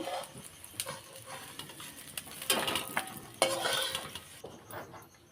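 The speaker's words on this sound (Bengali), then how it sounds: "এইভাবে সবগুলো ভেজে নিই" Patties frying in a pan on a stovetop, soft sizzling under metallic clinks and scraping of a utensil against the pan, close and moderately quiet.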